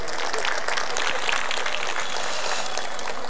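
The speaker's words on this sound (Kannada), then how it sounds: "ಒಂದ್ಸಲ ಜೋರಾದ ಚಪ್ಪಾಳೆ ಇರಲಿ ಬಂಧುಗಳೇ" An audience claps at a comedy show, a dense, steady wash of many hands from a sizable crowd that holds evenly throughout, close and fairly loud.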